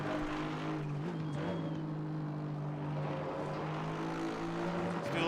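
Aston Martin V8 GT3 race car in Assetto Corsa Competizione at Misano, a steady engine drone holding a sustained tone through a lap, with a brief pitch dip and a swell at the end, no talk.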